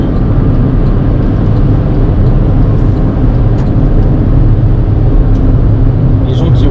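Steady roar of cars moving fast along an expressway, a dense continuous rumble of passing traffic heard from inside or beside the road, with no clear individual pass-bys.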